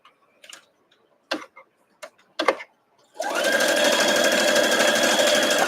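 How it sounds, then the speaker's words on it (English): A sewing machine runs in one steady, continuous burst while stitching quilt block pieces with a 1/4-inch seam, preceded by a few short clicks and taps of handling the fabric. "I sew as many as I can before I stop"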